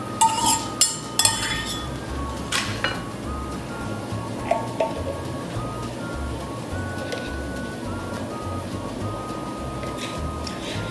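Plain yogurt is scooped into a one-cup measure in a home kitchen, giving light clinks and taps of a utensil against the cup and bowl, scattered over several seconds against a steady background hum.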